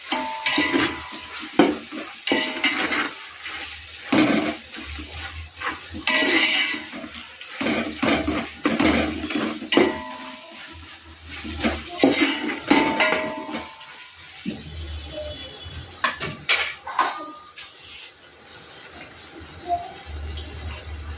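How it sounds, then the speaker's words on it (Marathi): Ginger-garlic-coriander paste being stirred into masala in a pot for mutton dum biryani, with repeated scraping and clattering of a spoon against the metal, steady and close throughout with brief quieter gaps. "पूर्ण मसाल्यामध्ये अद्रक लसूण कोथिंबीरची पेस्ट मिक्स करून घ्यायची"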